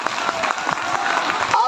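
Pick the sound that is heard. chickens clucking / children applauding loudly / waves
children applauding loudly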